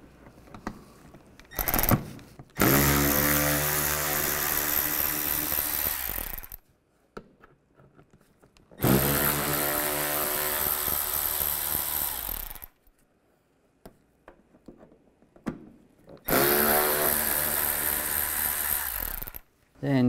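A power tool with a T20 socket drives out screws on the side of a 2011-2015 Chevrolet Cruze during radiator replacement, three loud sustained whirring runs with short pauses between them, close by.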